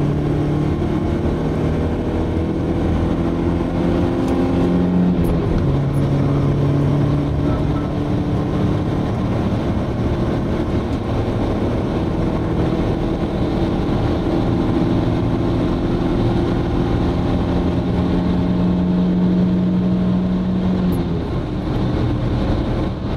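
Audi 80 B4 with a 2.0 engine pulling hard from 100 to 150 km/h, a steady loud engine drone with rising tonal hum and road noise filling the whole stretch, no talk.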